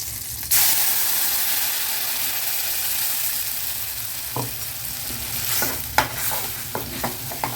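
Small onions and curry leaves sautéing in a pan for spicy onion chutney, a steady frying hiss with a sudden loud burst near the start, then scattered scrapes and taps of stirring.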